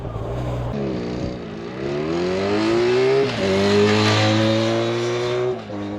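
A 2024 Harley-Davidson X500 motorcycle accelerates hard from 0 to 100, its engine note climbing steadily through the gears with brief dips at each shift, loud and close with wind rush.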